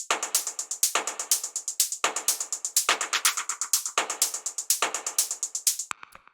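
Electronic techno percussion group with every drum except the kick, rapid ticking hats and clicky ratchet-like hits in a driving repeating loop, bright and upfront, ending in a brief glitchy tail.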